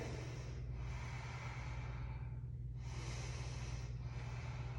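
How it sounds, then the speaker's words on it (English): Slow deep breaths held during a warrior two pose in a vigorous vinyasa yoga session, a few long airy inhales and exhales over a steady low hum, close to the microphone and with no talking. "3 breaths here"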